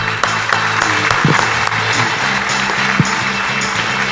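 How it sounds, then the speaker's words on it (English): A large conference keynote audience applauds steadily, a dense wash of clapping that holds at full strength throughout. "a warm round of applause"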